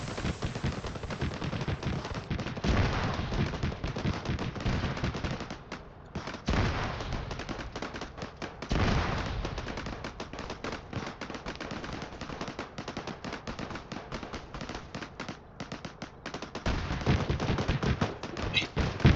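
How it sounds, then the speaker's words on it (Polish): Sustained Arma 3 military-simulation firefight: dense rapid bursts of automatic gunfire and single shots crackling continuously for the whole stretch, loud and close with heavier booms mixed in. "Coś tam strzela do nich."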